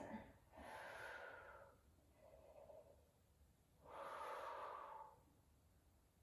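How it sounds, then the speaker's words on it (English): Deep, slow breaths during an L-sit hold, two long audible exhalations a few seconds apart with a softer breath between, close and fairly quiet over a low room hum. "Deep breaths here."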